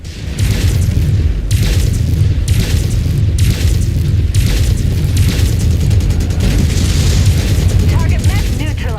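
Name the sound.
incoming missile exploding in a mech video game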